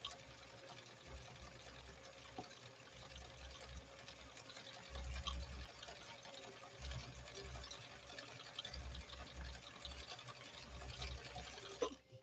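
A 1965 Viking Husqvarna 2000 sewing machine stitching a seam, giving a steady, continuous mechanical whir with fine rapid ticking, close by and fairly quiet, running unbroken for about twelve seconds before a brief bump near the end.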